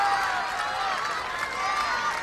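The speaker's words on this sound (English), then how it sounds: "Tremendous encouragement from this crowd." A strongman competition crowd at World's Strongest Man 2005 roars and cheers steadily in a dense, continuous wash of voices and applause, loud and close throughout.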